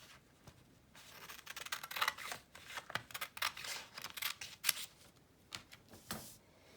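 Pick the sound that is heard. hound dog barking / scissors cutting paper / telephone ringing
scissors cutting paper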